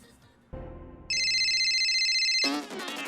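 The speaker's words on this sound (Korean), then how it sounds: "한 치 앞도 보이지 않는 이곳에서 케이스케에게 전화벨이 울립니다." Phone ringing in the Initial D street-racing anime: a few soft background sounds first, then a loud, steady electronic ringtone that runs for about a second and a half before a voice cuts in over it.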